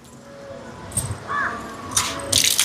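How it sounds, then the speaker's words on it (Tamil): Seeraga samba rice being washed in water for an Easter lunch, with intermittent splashes and sloshing bursts that grow louder toward the end, alone and close by. "இப்போ அரிசியை கழுவி எடுப்போம்."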